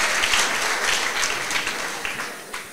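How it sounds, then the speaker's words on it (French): A pageant audience at the Miss Level Up 2023 election gives a contestant a dense, steady round of applause that carries through the whole stretch, loud and close with no voices over it. "Est-ce qu'on peut l'applaudir encore très fort?"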